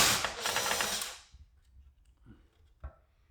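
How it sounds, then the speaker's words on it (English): Nut driver removing a 5/16 nut from a garage door opener, a loud buzzing whir for about a second, then a few faint clicks and a sharp knock as it stops. "Now 2 of them we can get at easily with our nut driver."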